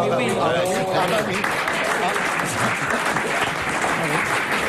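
Studio audience applause on a French radio comedy panel show, a dense, steady wash of clapping that fills the whole stretch at close range, with voices talking over it.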